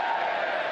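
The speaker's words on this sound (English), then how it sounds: "Crowd hungry for a goal." Stadium crowd at a Tampa Bay Rowdies versus Loudoun United FC soccer match, a steady broad roar of many voices with no clear peaks, continuous and fairly loud for a brief moment.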